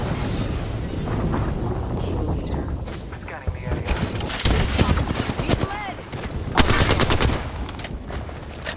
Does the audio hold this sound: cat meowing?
no